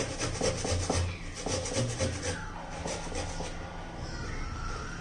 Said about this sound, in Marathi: हे पहा, आता आलं पण किसून घेते.